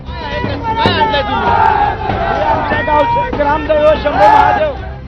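A large crowd of Maratha reservation protesters gathered outside CSMT station in Mumbai, a loud, dense hubbub of many voices with shouts and chanting rising and falling throughout.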